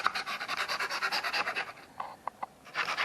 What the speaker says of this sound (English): just get yourself a knife and just chop off the excess.